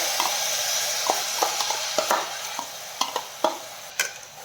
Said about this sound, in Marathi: मसाला हलकासा परतून घेतला की त्यामध्ये आता आपण भिजवलेले तांदूळ घालून घेऊया।